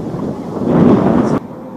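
Wind gusting against the microphone on a sunny, slightly windy day in Shanghai, a loud blustery rumble that swells and then cuts off abruptly.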